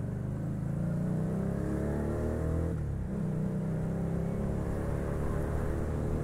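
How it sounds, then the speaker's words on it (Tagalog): An FKM Victorino 250i motorcycle's exhaust drones steadily at idle with a rough, throbbing note, briefly rising and dipping in pitch partway through. "Ngayon parang nakikiliti mo yung tunog ng tambutso niya."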